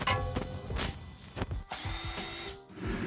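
A power tool with a deep-well socket backing out 10 mm bolts on a pre-refresh Tesla Model S headlight, heard as several short whirring and rattling bursts with clicks and pauses between them.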